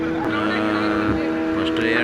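A fishing boat's engine drones steadily on its first day out, a close tonal hum with harmonic whine, while someone talks over it throughout.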